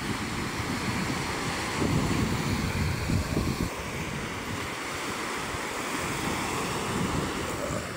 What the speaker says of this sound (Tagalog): malakas ang dagat mga idol